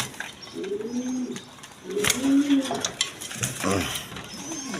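Pigeons coo in repeated throaty phrases, close and clear, with a few mechanical clicks and rattles between the calls and faint talk in the background.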